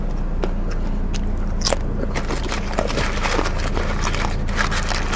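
Someone bites and chews crunchy fried banana made with wild yam batter, giving loud, close crackling crunches in an irregular run with a low hum underneath.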